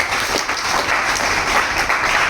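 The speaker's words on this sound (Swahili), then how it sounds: "Makofi kwa ajili yao" Sustained, dense applause from an audience honouring graduating students and environmental club members at a university ceremony in Mwanza, with steady clapping throughout and no pauses.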